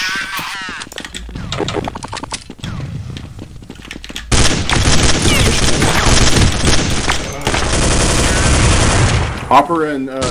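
Gunfire in the video game Counter-Strike 1.6: loud rapid bursts of automatic fire and sustained volleys, with players talking over the shooting.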